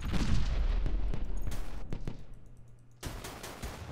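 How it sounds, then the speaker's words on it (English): Rapid bursts of weapons fire from a starbase in the space strategy game StarDrive 2, loud and dense, with a brief lull before the volley resumes near the end. "Currently, the starbase is still firing at you"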